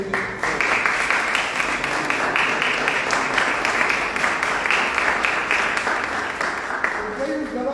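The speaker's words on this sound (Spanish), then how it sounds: "Por eso yo quiero pedir un aplauso para Horacio, realmente." An audience applauds continuously, a dense wash of clapping that carries on throughout and fades slightly toward the end, with voices faintly mixed in.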